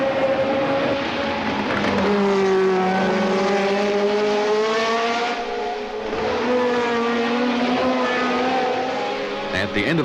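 Ferrari Formula 1 race cars from 1976 scream past at full throttle, their high-pitched engine notes rising and shifting in pitch as they run close together through a continuous, loud ten-second pass.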